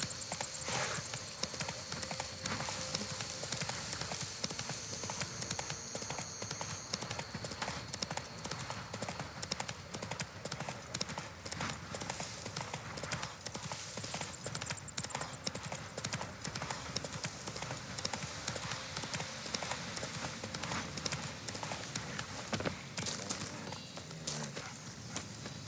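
Continuous rhythmic clip-clop of a horse galloping in the video game The Witcher 3, loud and steady throughout, with game ambience and little or no talk.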